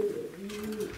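Racing pigeon cooing softly in a loft, a single short low coo, fairly close and quiet against faint background noise.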